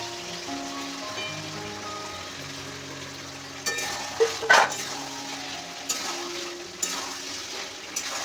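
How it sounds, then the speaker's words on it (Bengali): Chicken and spice paste sautéing in a pan with potatoes just added. A soft, steady sizzle sits under intermittent spatula knocks and stirring scrapes that grow louder midway. No one speaks. "কিছুক্ষণ কষানো হয়ে গেছিলো, এই সময় হচ্ছে আলুটা দিয়ে নিয়েছি"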